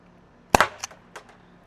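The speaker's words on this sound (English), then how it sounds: "Second shot." A Byrna CL launcher fires a single sharp, loud shot close by, followed by a brief echo and a couple of faint clicks in an otherwise quiet setting.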